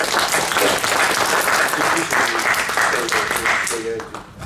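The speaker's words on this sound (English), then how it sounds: "Thank you very much to our panelists. Please, a round of applause." Workshop audience in Brussels applauding the panelists, a loud, sustained burst of many hands clapping that thins out near the end, with a few voices rising underneath.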